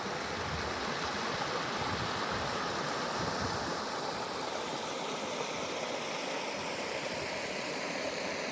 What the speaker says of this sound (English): we are walking along the creek